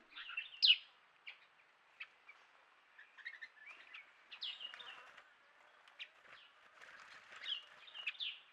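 Scattered high chirps and short calls from eyebrowed thrushes, sparse and fairly faint, with quiet gaps between notes.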